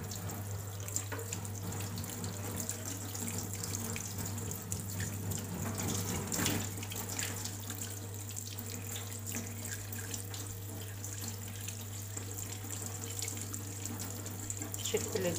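Kitchen tap water runs steadily under a sink while fish is washed and cleaned by hand, a close continuous splashing with a low hum beneath and occasional handling noises.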